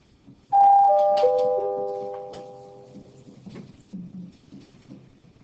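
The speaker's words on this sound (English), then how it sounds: "I think they were just testing to make sure the bells and everything are working." School bells ringing during a bell test, a clear tonal chime struck a few times and then ringing out and fading over several seconds, followed by faint room noise.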